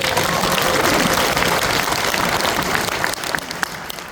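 A crowd applauds loudly and steadily, the clapping thinning slightly toward the end.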